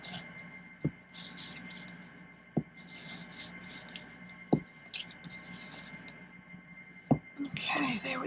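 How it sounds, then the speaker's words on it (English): Paper being folded and burnished for a small no-cut gift box: soft rubbing and scraping strokes with a few sharp taps and creases, close and quiet, with a voice murmuring at times. "I'm just going to fold and burnish everything"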